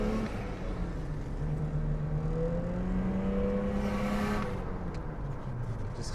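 BMW E39 engine revving, a steady loud drone with rising and falling engine tones as the revs climb and ease off, close by and continuous with no talk.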